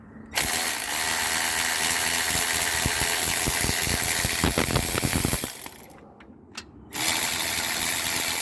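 Battery-powered ratchet loosening a bolt on a 2011-2017 Honda Civic during torque strut mount replacement, a loud continuous mechanical whir with rapid ratcheting clicks that cuts off briefly near the end, then resumes.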